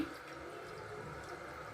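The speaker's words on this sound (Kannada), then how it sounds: "ಅದಕ್ಕಂತೇಳಿ ಒಂದು ಕಳಸಿ ತುಂಬಿ ಇಟ್ಕೋತೀನಿ." Running water from a kitchen sink tap filling a pot, a steady, continuous faucet stream with faint dripping texture, close by and without talk.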